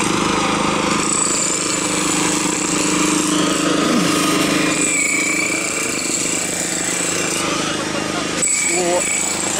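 Street construction work in Kharkiv on a hot day, a steady rough jackhammer-like mechanical din with engine rumble running throughout, loud and continuous, with a person talking over it.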